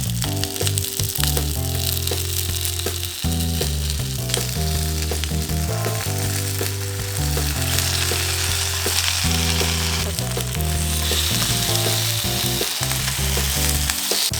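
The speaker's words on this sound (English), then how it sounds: "brush on the sauce on both sides and pan fry it real quick" Sauce-brushed rice paper tteokbokki pan frying on low heat, a loud continuous sizzle heard up close with occasional scraping and pan sounds, no voices.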